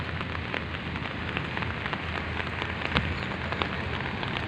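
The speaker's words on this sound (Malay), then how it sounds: "Cuaca baru dah hujan lebat." Heavy rain pours steadily at an airport in Kuching, a dense, continuous hiss of drops drumming on surfaces, fairly close and with no voices.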